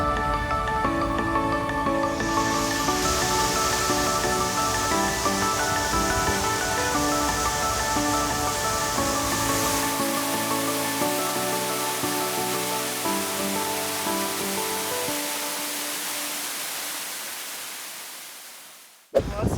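Hidden waterfall in Snowdonia, Wales, a loud continuous hiss of falling water under a steady hum of layered tones that fades away at the end.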